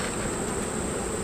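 Honeybees at a strong, open hive give a dense, steady buzzing drone throughout one short moment, close and without voices.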